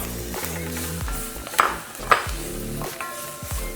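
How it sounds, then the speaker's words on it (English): Carrots fry with flour in a pot, a close sizzle with stirring scrapes and a couple of sharp utensil clinks against the pot, no voices. "We're going to fry that to remove that raw flour taste."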